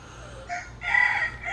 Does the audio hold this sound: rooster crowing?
yes